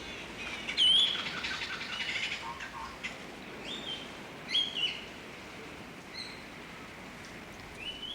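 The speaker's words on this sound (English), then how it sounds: "The Valley de Mai has its own bird, the Seychelles black parrot." Seychelles black parrots call in the Vallée de Mai palm forest on Praslin: scattered, fairly distant whistles and short chirps come in separate bursts over quiet forest ambience.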